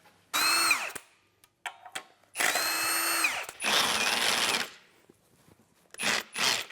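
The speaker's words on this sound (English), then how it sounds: "That's a drill" A power drill whirs in several short bursts, revving up and winding down between pauses, close and fairly loud with brief clicks in the gaps.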